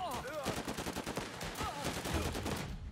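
Rapid machine gun fire in the video game Last Train Home, a dense rhythmic stream of close, loud bursts running nearly the whole time, with a voice talking partly underneath.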